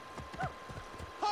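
Horse hooves clop in a quick, even rhythm at a moderate distance in Assassin's Creed Origins, fairly faint, with a brief higher sound at the end.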